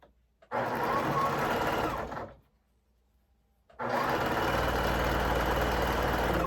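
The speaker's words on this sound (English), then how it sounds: "All I have to do is sew this up." A sewing machine stitches quilt block pieces for a gemstone-pattern quilt in two loud, steady runs of whirring, separated by a short pause, with no voices.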